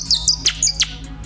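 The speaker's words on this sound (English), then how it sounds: "We got the bird call, which is probably the most bullshit item I've seen in a long time." A Supreme-branded bird call whistle sounded again up close: five short, high chirps in quick succession, then it falls quiet.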